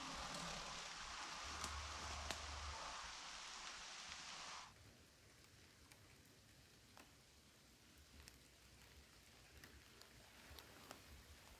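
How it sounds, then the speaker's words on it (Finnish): Rain falling steadily at a beehive in an apiary, a dense hiss that is loud for the first few seconds and then drops to a softer, even patter with scattered drops. "koska täällä sataa, niin ne ei halua tulla sieltä kastelemaan siipiensä"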